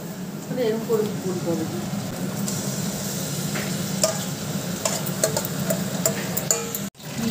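Marinated chicken goes into browned onions in a pan and sizzles softly while a spoon stirs with light scraping ticks, with talk continuing over the cooking.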